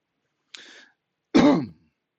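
A person gives a quick throat-clearing cough, a short faint rasp followed by a louder, fuller cough, with silence around both.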